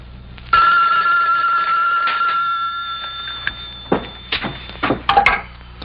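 An old telephone bell rings in a house, one sustained metallic ring near and loud that fades out, followed by wooden knocks and handling thumps as the receiver is picked up.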